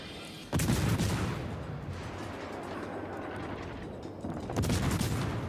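World of Warships destroyer gun salvos in the game, two loud booming volleys spaced a few seconds apart, each rolling into a rumbling tail over steady background noise, with no talk.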